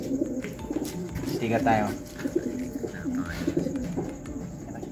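Racing pigeons coo softly in a steady, low murmuring rhythm, several birds close by, while someone talks over them.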